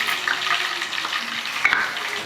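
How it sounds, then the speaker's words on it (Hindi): Whole spices — cinnamon, black cardamom, black peppercorns, green cardamom, cloves and cumin — sizzling and frying in hot oil for a tadka while making chicken korma, a steady close hiss with light stirring. "दालचीनी, बड़ी इलायची, काली मिर्च, हरी इलायची, लौंग और जीरा, इन्हें एक थोड़ा सा तड़का दे देंगे।"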